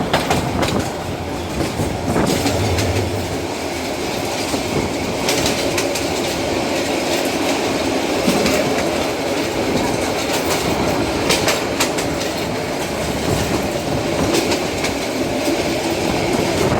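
The Tista Express passenger train rolls along the Dewanganj to Dhaka line, a loud, continuous rumble of wheels on rails with rhythmic clickety-clack, occasional squeals and a brief low horn-like tone early on.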